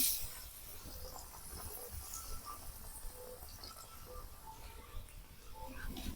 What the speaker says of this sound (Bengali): বেসনের মধ্যে ভালো করে এপাশ ওপাশ চুবিয়ে নেব তেলের মধ্যে ছেড়ে দিলাম